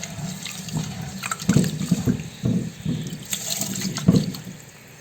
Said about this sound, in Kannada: ಅಕ್ಕಿಯನ್ನ ಚಂದ ಮಾಡಿ ತೊಳ್ಕೊಳ್ಬೇಕು